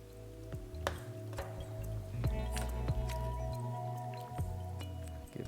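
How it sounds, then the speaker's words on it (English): Ladle stirring a very full pot of minestrone soup, giving soft wet squelches and sloshing with a few light knocks against the pot, steady and close over a low background hum. "Give this a gentle stir because this is definitely one very full pot of soup."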